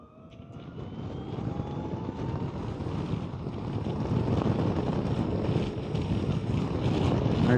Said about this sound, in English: I can definitely hear the wind going around me.